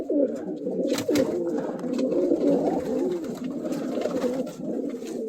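Several pigeons cooing close by, continuous overlapping low rolling coos filling the scene, with a few faint knocks and rustles in the background.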